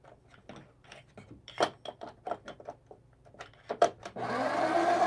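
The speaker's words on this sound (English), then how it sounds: "Let's say I'm gonna grind my coffee." A Breville Barista Express grinds coffee beans, its grinder starting with a loud, steady whir near the end after a run of light clicks and taps from handling the machine.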